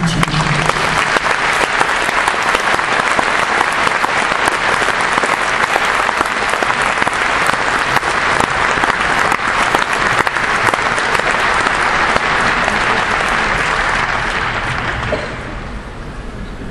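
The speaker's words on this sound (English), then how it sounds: "And you can applaud for this young gentleman." An outdoor festival audience applauds a young torch bearer, dense and loud clapping sustained for about fifteen seconds before tapering off slightly at the end.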